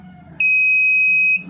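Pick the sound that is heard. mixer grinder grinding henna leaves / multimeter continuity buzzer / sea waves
multimeter continuity buzzer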